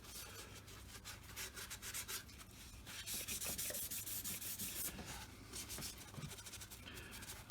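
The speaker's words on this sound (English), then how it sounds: "So we'll just get a fair bit of shellac on some of this end grain." A brush lays a thick coat of shellac onto wooden end grain during a repair of a child's butterfly house, giving a close, steady scratchy rubbing that swells and eases with each stroke, with no talking.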